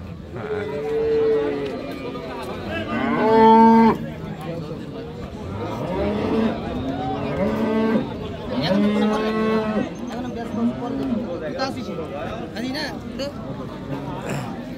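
Friesian cows and calves moo repeatedly at a busy cattle market in Tangail, long drawn-out lowing calls rising over crowd murmur, with someone talking through much of it.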